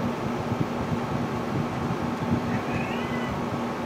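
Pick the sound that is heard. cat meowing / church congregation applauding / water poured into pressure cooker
cat meowing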